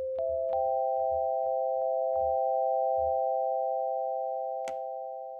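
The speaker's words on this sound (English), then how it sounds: "I define a sound on the right half with Y1. For example, a sine wave sound with an oscillator" A steady sine tone from a synthesizer's VCO3 oscillator holds throughout, pure and unwavering, with faint low thumps and clicks early on and a brief noisy burst near the end.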